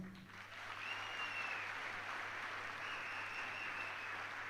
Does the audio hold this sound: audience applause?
yes